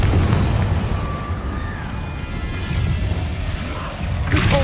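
A Confringo blasting spell in a video game sets off a booming explosion, with a low rumbling roar that holds, then a sharp burst near the end.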